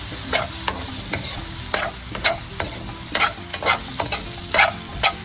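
Rice frying in a pan with sesame oil, oyster sauce and ginger powder, stirred with a utensil that scrapes and taps in repeated sharp strokes over a continuous close sizzle.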